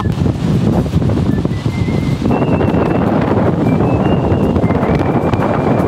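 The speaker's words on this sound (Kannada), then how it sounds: "ಅಲ್ಲಂತೂ ಹೆಂಗ್ ಗಾಳಿ ಹೊಡಿತಾ ಇದ್ರೆ ತಡಿಯೋಕೆ ಆಗ್ತಾರೆ, ಅಷ್ಟು ಗಾಳಿ ಹೊಡಿತಾ ಇದೆ" A strong wind blows across open ground by the water in a Japanese village, a loud, steady roar of gusts buffeting the microphone throughout, with faint whistling tones drifting above it.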